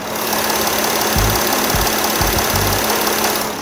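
Porsche Cayenne V6 3.0 diesel with ZF eight-speed gearbox, running in an open engine bay with a steady close mechanical hum and a few low thumps or revs rising and falling.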